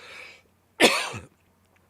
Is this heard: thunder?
no